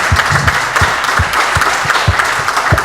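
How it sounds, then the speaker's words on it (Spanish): A Sunday church congregation gives loud, close, continuous applause to the Lord, with a rapid wash of clapping and low thumps underneath. "¿Por qué no le dan un aplauso al Señor?"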